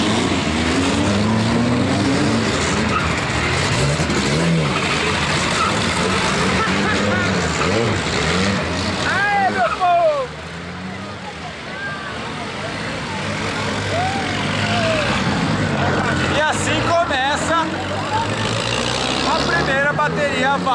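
Turbo B class drag racing cars idle and rev loudly at the Arrancada Mineira strip, engines roaring continuously with rising and falling pitch, while a person talks over the noise.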